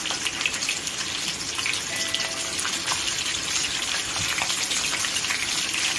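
Akawi (oxtail) pieces fry in a pan, giving a dense, even hiss of sizzling that holds steady and close throughout, with no talk.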